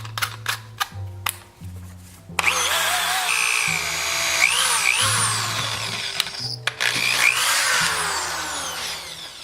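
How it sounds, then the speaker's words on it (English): A power drill with a 5/8 inch bit bores holes into PVC end caps, loud whining bursts that start and stop several times, with a sustained grinding stretch through the middle. "we are gonna drill a 5/8 hole into the end of the caps"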